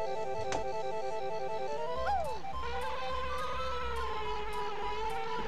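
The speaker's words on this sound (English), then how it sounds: "That bee sounds kind of annoying." A steady insect-like buzz from the bee character in the Nintendo game Banjo-Kazooie, droning continuously under music with small pitch swoops, moderately loud.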